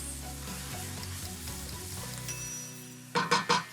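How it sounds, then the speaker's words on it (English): Roasted pepper mixture cooks in a pan as a sauce base, a soft steady sizzle under a low hum, ending with three quick louder scrapes or stirs. "I'm gonna cook this mixture for exactly 3 minutes"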